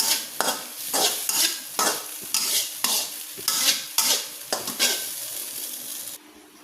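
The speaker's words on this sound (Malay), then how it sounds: "Kita kacau je guys sampai dia optimalnya" Fried rice with hotdog being stirred and scraped in a pan, a steady run of about a dozen rhythmic metal-on-pan strokes over a soft sizzle, close and fairly loud, with no talking.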